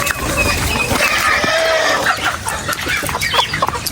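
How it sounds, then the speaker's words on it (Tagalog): Hens and other poultry clucking steadily on a farm with laying nests, with a rooster-like call in the mix; a busy, close flock chattering throughout with no talk. "Dahil may mga inahing manok din tayo dito."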